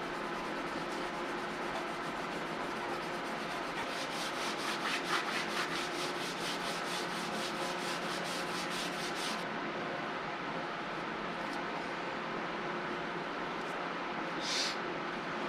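A Scotch-Brite pad scrubs an aluminum fork in a continuous close abrasive rasp, with rapid back-and-forth strokes that quicken midway, then the scrubbing softens before a brief final rub.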